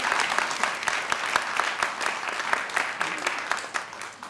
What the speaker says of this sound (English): So if you want to give a clap for Helen.